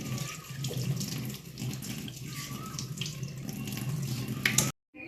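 Freshly picked tea leaves rinsed under a running kitchen tap, a steady splashing water stream lasting several seconds at close range, ending abruptly in silence.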